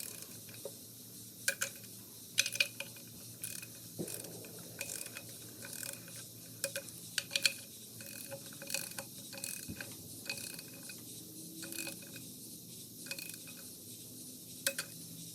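A torque wrench clicks and ratchets while clutch bolts are tightened to 68 inch-pounds in a star pattern on a K-series clutch, with repeated faint, irregular clicks heard close and alone.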